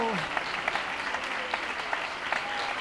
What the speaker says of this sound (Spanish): Démosle un aplauso a este Dios precioso